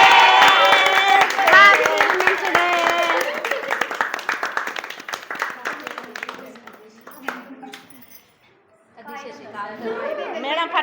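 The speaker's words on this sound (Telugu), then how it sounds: "అందరు క్లాప్స్ కొట్టాలి" Audience applause with crowd chatter at a Women's Day gathering, loud and continuous at first, thinning to scattered claps and voices, then rising again toward the end; people talk throughout.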